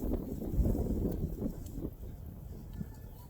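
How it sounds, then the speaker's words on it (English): Gusty wind buffets the microphone outdoors, a low rumbling roar that swells and eases throughout, with no one speaking. "I apologize, it's really windy"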